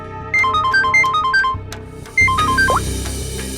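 Mobile phone ringtone chiming with an incoming call, a loud repeating melodic pattern of bright electronic tones in two bursts separated by a short gap, with no one talking.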